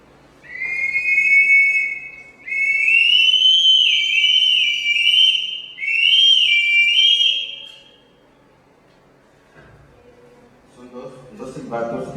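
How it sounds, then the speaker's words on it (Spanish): Shrill, piercing bird-like whistles from replica ancient Mexican resonator whistles blow in several long, wavering blasts with short pauses between them, followed by quiet and a little speech. "van a ver ese efecto tocado con los silbatos"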